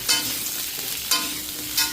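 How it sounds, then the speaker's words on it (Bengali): Papaya and potato fry in a pan with a steady sizzle, broken by three brief bursts of sharper spattering and stirring, with no talking. "পেঁপে আর আলুটা আগে ভালো করে ভেজে নেবো"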